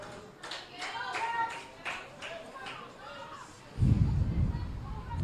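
Football crowd at a women's NPL Victoria match between Box Hill United and FV Senior NTC, clapping and cheering in a steady rhythmic burst that swells into a louder roar near the end, heard at a distance.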